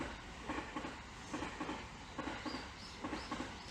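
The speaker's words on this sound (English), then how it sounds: "there's a train coming by" A train in Japan rolls past, its wheels clacking over rail joints in a steady repeating rhythm, with a faint squeal near the end.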